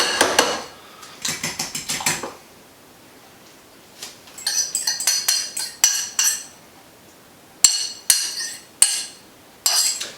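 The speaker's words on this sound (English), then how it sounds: "For the eggs, I like to beat them into a separate bowl and go ahead and get them scrambled" A utensil clinks and taps rapidly against a bowl as eggs are beaten for a Thanksgiving bread-pudding side dish, several close, bright bursts of whisking separated by short pauses.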